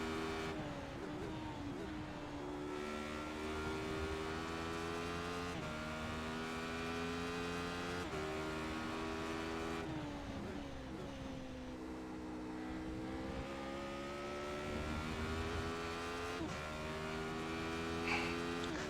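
A race car engine in a racing video game drones steadily under throttle, its pitch rising and falling through repeated gear changes over a constant hum, with no talk.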